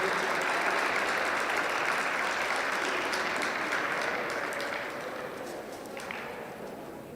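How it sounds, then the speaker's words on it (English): A crowd of spectators applauds exhibitors at a youth livestock poultry show, steady dense clapping that holds for several seconds and slowly tapers off, with no voices over it. "let's give the exhibitors a big round of applause"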